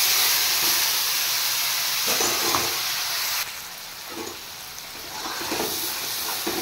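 Spice paste of cumin, coriander, ginger and green chilli hits hot oil with whole dried chillies and bay leaves, giving a loud continuous sizzle and hiss that drops abruptly partway through, with soft stirring knocks.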